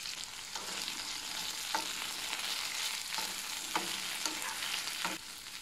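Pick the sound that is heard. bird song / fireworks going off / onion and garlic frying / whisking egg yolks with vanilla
onion and garlic frying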